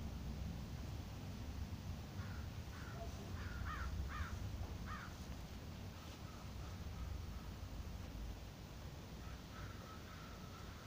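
Crows caw in a few short bursts of harsh calls over a steady outdoor hiss of wind, fairly faint and at a distance.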